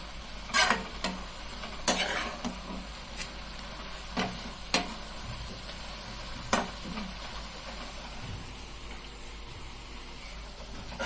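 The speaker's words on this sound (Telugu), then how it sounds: "ఒకసారి కలుపుకుందాం మంచిగా." Amaranth leaves stir-fried in a pan: quiet, intermittent spatula scrapes and clicks come at irregular intervals over a soft, low sizzle.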